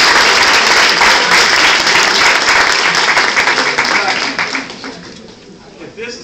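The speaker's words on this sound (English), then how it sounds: "Give yourself one more round of applause." A crowd applauds loudly and evenly for several seconds, the clapping thinning and fading out at the end.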